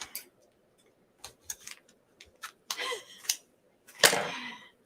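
Several sharp snips of scissors cutting, irregular and close, with a longer crisp slicing cut near the end and quiet between strokes.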